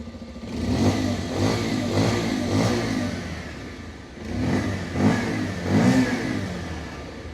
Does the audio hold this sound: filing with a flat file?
no